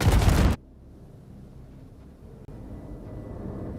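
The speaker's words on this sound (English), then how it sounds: "Oh dear, that was a big explosion." A loud, broadband blast from a ship exploding in the video game Star Citizen bursts out for about half a second, then cuts to a low, steady rumbling drone that continues to the end.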